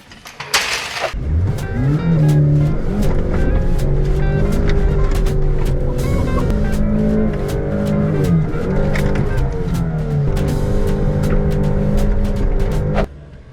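A car's engine revs hard and steadily through a reverse donut, its transmission filled with molasses instead of fluid, pitch rising and falling with brief tire chirps, loud and close for about twelve seconds before cutting off.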